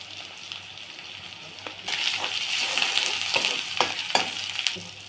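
Onions and spices, including fenugreek seeds, cumin, green chillies, ginger, turmeric and salt, fry in oil in a kadai, the sizzle swelling louder midway into a dense crackling hiss with occasional spoon knocks, close and continuous.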